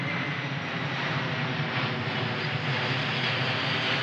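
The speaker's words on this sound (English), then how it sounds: "Literally a plane is literally making circles above me. It's a huge plane too." A large airplane circles overhead, giving a steady, loud broadband engine roar that holds for the whole stretch with no talk.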